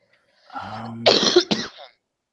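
A person coughs and clears their throat in a short, close burst, a raspy throat-clearing rumble followed by two sharp coughs, with no speech.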